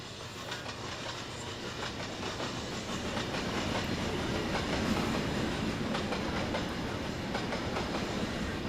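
A Hudson steam locomotive rolling past on single track in the Trainz2 railway game, a steady, dense rumble with rail clatter that swells slightly midway and holds, with no talk.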